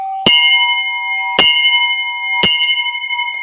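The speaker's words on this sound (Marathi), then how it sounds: "बेल मारून घेऊयात." A metal bell at the entrance of a hot water spring is struck three times at even intervals, each strike ringing out loud and close with a long sustained hum that carries into the next.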